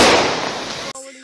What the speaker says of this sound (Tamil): பட்டாசு உள்ளதுக்கு போட்டோம், அது வெடிச்சிருக்கு